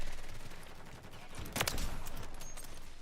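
Gunfire in a video game: a rapid burst of shots stands out briefly amid a steady, busy game soundscape, heard at a moderate distance with no clear talk over it.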